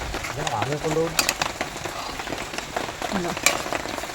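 Biryani with ghee poured over it is stirred slowly in a large biryani pot, producing soft scraping and light sizzling under a person talking nearby, with a few sharper clinks.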